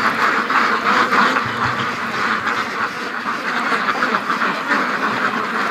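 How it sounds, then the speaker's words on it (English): A flock of brown geese and ducks on icy ground quacks and honks continuously, a dense overlapping chorus at moderate distance with no speech. "Oh, the brown geese are still here."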